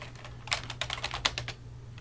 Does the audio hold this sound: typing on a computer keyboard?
yes